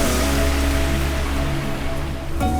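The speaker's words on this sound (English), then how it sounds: "this whole beach is getting pummeled by these waves and it's just breaking on shore" Heavy surf pounding a beach, a continuous loud wash of breaking waves heard from a rolling boat offshore, with a low rumble throughout and a brief swell near the end.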